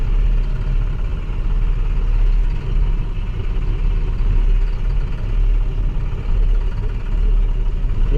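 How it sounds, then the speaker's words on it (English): An International Durastar truck engine idles roughly, misfiring on three cylinders, with a deep, uneven low rumble, steady throughout and close by. "it sort of sounds like it's knocking on 3 cylinders, or misfires on 3 cylinders"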